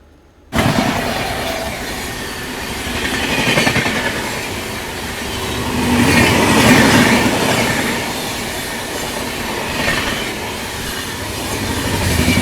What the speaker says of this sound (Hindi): ये था अपना संगम एक्सप्रेस, ये भी ताबड़तोड़ रफ्तार में निकली है।